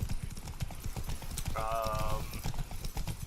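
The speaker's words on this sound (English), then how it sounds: "Slow down, horse." Horse hooves clip-clop in a quick, steady rhythm in The Witcher 3: Blood and Wine, close and clear, with a brief neigh-like tonal cry in the middle and no talk.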